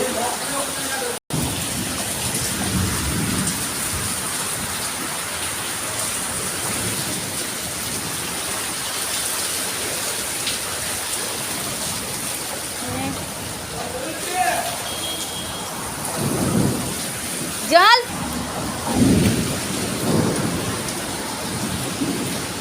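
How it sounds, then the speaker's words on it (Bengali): Heavy monsoon rain pours steadily over a waterlogged Kolkata neighbourhood in Jadavpur, with thunder rumbling in the background and a louder roll near the end, while a voice speaks over the downpour. "এ প্রচুর বৃষ্টি হচ্ছে"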